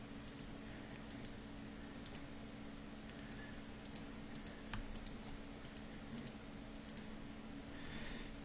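Sharp, faint computer mouse clicks come singly and in pairs at irregular intervals over a steady low hum of room and computer noise.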